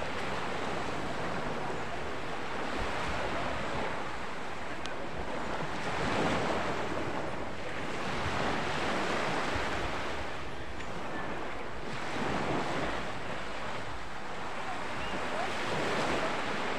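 Waves wash in and out in slow repeating surges, a broad steady roar of surf with wind buffeting the microphone.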